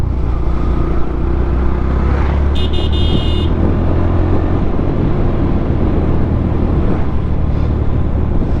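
Yamaha FZ motorcycle accelerating on an open road with a quick throttle, a steady loud engine and wind roar throughout, with a brief horn-like tone partway through and no talking.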